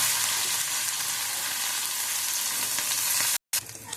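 Onions fry in hot oil for a paneer chilli gravy, giving a loud, dense, continuous sizzle up close that cuts out for a moment near the end before resuming more quietly.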